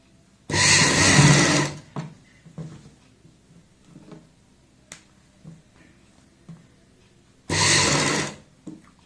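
A sewing machine stitches a kurti neck in two loud, brisk bursts, one near the start and one near the end, with soft handling clicks and taps in the quiet stretch between.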